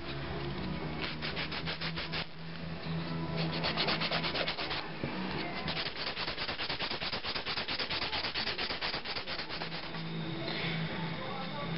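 A nail file rubbing back and forth on acrylic nails in a steady, rapid rasping rhythm, close and continuous throughout, with faint talk underneath at times.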